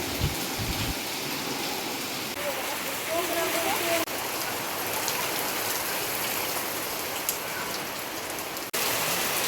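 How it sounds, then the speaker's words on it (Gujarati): Heavy rain pours down outdoors in a steady, dense, loud wash of drops hitting surfaces, continuous for the whole stretch with faint background voices. "આજ તો બહુ વરસાદ આવ્યો"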